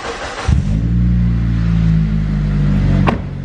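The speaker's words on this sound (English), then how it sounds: "I'm gonna start the car" A Mitsubishi Evo engine with an aftermarket exhaust cranks briefly and catches, settling into a steady, loud idle rumble close by, with a quick blip near the end.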